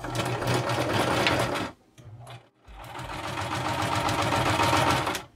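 Sewing machine stitching tiny fabric pieces for art doll projects, a fast rhythmic mechanical whir that runs steadily, pauses briefly, then resumes at the same pace.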